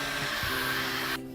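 A hair dryer blows a steady, loud whir with a constant hum over freshly painted acrylic, running alone for just over a second before cutting off abruptly near the end.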